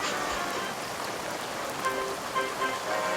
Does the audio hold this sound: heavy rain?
yes